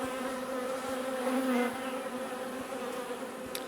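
Agitated honeybees swarm in an open hive, a dense, steady buzzing drone that fills the whole stretch, close and loud with no voices.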